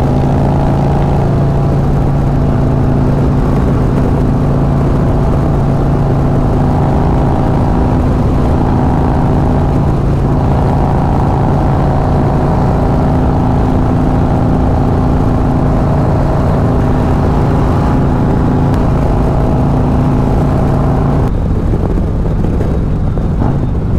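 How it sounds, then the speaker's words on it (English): Harley-Davidson Road Glide motorcycle cruising on a Maryland highway on a clear, cool day, with a steady, loud engine drone and rushing wind noise that continue unbroken throughout, no voices. "Bike is running crisp."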